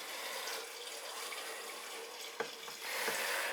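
Water runs from a household faucet on a well system, pushed out by pressure in the tank, a steady hissing rush close by with a couple of small clicks near the end.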